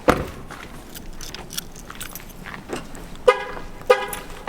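A locked truck gives two short horn chirps about half a second apart, parked outside a school, against quiet outdoor background noise.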